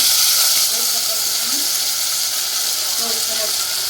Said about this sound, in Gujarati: બહુ સરસ વઘાર આવી ગયો છે.